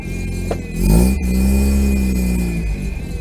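A classic car nicknamed Matilda, just converted to electronic ignition with a repaired accelerator pump, fires up and rumbles loud and close, revving briefly then settling into a smooth, steady run.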